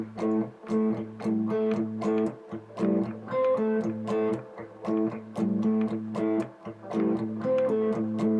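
Electric guitar plays a repeating melodic build figure from a song, with rhythmic chord stabs and notes that rise in a steady building pattern, clear and upfront with no voices.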